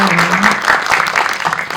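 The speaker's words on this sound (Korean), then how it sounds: "큰 박수 부탁드리겠습니다" A film screening audience applauds steadily, a dense wash of clapping from many people, loud and sustained throughout.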